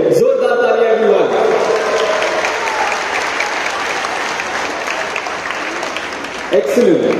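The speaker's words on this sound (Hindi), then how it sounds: "जोरदार तालियां एवरीवन." Loud audience applause fills the hall at a sports festival for children with cancer, organized by the Duhita Foundation. Steady clapping runs throughout, with a voice speaking briefly at the start and again at the end.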